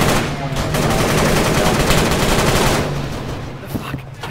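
Rapid gunfire in the video game Arma 3 rattles loud and close in a sustained burst for about three seconds, then eases off with a fainter tail.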